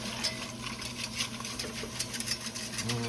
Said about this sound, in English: Get my whisk here. My whisk here going, y'all.